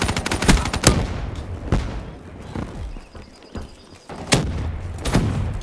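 Rapid bursts from the fast-firing HK weapon in Black Ops 3, loud sharp cracks in quick stuttering volleys with brief pauses between strings of shots.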